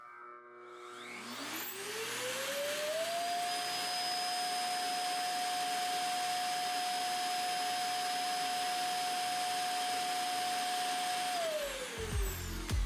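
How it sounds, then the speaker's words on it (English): A Neabot robot vacuum's self-emptying dock runs as a loud, steady jet-like roar, rising in pitch over the first few seconds, holding for about eight seconds, then winding down, with no talk. "the self-emptying system. And while it sounds like a jet engine while emptying, it only lasts for a few seconds"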